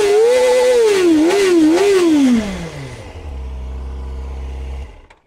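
Kawasaki Ninja ZX-4RR 400cc high-revving four-cylinder sport bike engine blipped loudly and close through several sharp rising and falling revs, then dropping back to a steady low idle before cutting off.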